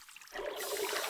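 Soft bubbling and trickling of air bubbles rising underwater from a diving lizard, a faint gurgle that swells into a steady watery fizz after a brief quiet start.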